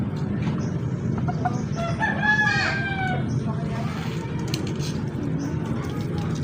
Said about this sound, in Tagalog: yan yung maingay na manok